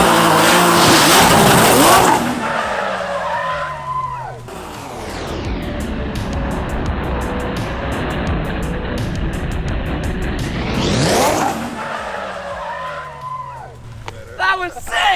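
An all-wheel-drive Nissan GT-R Safari car drifts, its engine revving hard with a clutch kick as tires squeal and the loud engine note sweeps past, while people talk excitedly over it.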